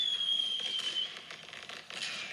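Fireworks show heard from a distance: faint scattered crackles and pops over a quiet background, with a thin whistle near the start.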